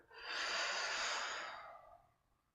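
A single close, soft breath during a Pilates movement for digestion, rising and fading over about two seconds as a gentle airy exhale through the nose or mouth.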